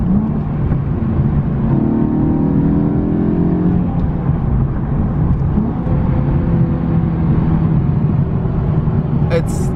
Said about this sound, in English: If I want to go down to 4th or 3rd, it will literally rev match for me